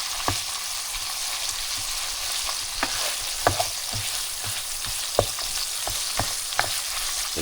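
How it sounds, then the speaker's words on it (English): Ground beef browns in a pan with a steady, fairly loud sizzle and occasional spatula taps and scrapes scattered across the clip, with no one talking. "let's let it sit there for a minute and get browned up"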